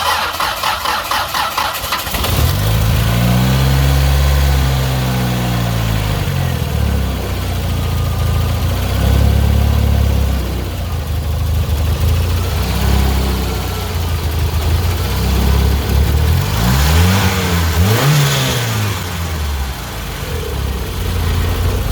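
A Mitsubishi 4G63 engine fitted with a Fluidampr damper and balance shaft delete starts up, then idles loudly with several sharp revs rising and falling, alone with no voices.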